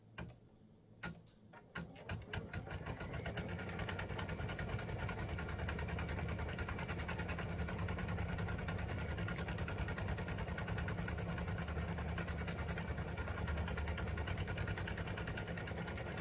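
An embroidery machine sews a triple stitch on a monkey-and-banana tic-tac-toe board piece, starting with a few clicks and then settling into a fast, steady mechanical rattle that runs on alone at close range.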